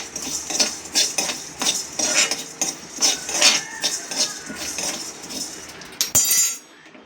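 Whole spices for sambar powder being dry-roasted and stirred in a pan, with a spoon or spatula clinking and scraping against the metal in an irregular, fairly close rhythm throughout, then a sharper knock near the end.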